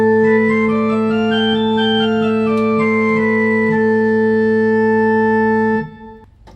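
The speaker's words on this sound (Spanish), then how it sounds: "o la escala menor antigua, que es esta." A natural minor scale is played note by note on a keyboard instrument, rising then falling in even steps over a sustained low drone, ending abruptly.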